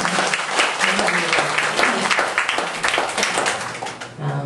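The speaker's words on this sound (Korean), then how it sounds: "네, 그럼 박수 한번 쳐주시겠습니까?" An audience at a worship service breaks into applause, a full, lively burst of many hands clapping close by, with some crowd murmur mixed in.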